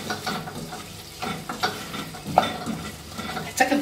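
Chicken and spices sizzle and fry in a pan with repeated stirring scrapes and bursts of crackle, close and fairly loud, no voices.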